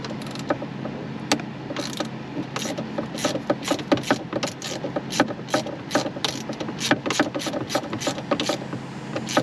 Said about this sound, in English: T27, mine's on a ratchet,